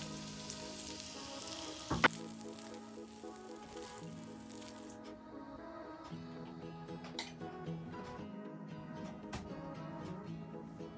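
Food sizzles and fries in a hot pan on an off-grid wood stove, a steady quiet crackle with scattered pops and one sharp clank near the start.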